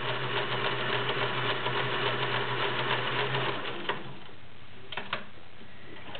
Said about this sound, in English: that metal cam is allowing the machine to do the reverse or stretch stitch